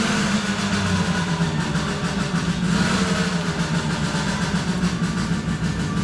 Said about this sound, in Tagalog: Ingay na motor.